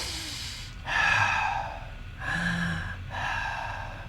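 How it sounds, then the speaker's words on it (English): A person breathing in and out during a meditation demonstration, with three slow, audible breaths close to the microphone separated by short pauses and no talking. "Breathe in, breathe out."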